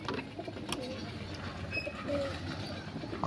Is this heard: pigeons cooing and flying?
yes